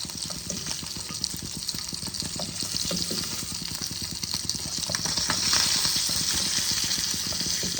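Koi fish frying in hot oil, a steady dense sizzle with crackling and bubbling that holds evenly throughout, close and fairly loud, no talking.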